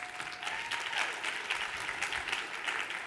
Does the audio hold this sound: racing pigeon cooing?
no